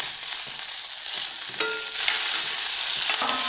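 Curry leaves sizzle in hot tempering oil with pepper, cumin and cashews, a steady close frying hiss with light stirring clicks and scrapes.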